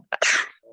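One sharp human sneeze, a quick intake followed by a loud burst that fades within half a second, close to the microphone.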